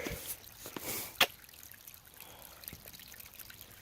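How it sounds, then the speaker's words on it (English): A small mountain stream along a trail trickles and drips softly, with faint splashes and a sharp knock early on, quiet and close with no voices. "cool little mountain river"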